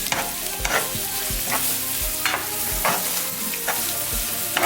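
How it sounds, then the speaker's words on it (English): Food frying in a pan while being stirred, a loud continuous sizzle with repeated scraping strokes of a utensil at a steady rhythm, close up. "And stir it."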